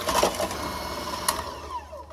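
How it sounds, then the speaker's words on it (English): Electric hand mixer whirring in a bowl of butter and sugar cake batter, a steady close motor buzz with light scraping clatter of beaters against the bowl. "With an electric hand mixer, start mixing."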